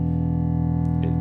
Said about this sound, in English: create very interesting slow drones that are changing all the time